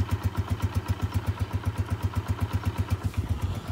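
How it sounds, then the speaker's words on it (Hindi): Motorcycle engine idling after a first-kick start on a foggy morning in a street, steady rapid low thumping pulses, close and loud, running alone without voices. "बाइक जो है अल्हम्दुलिल्लाह आपके भाई ने स्टार्ट कर रही है, और माशाल्लाह पहली किक पे स्टार्ट हो गई थी इतने धुंध में भी"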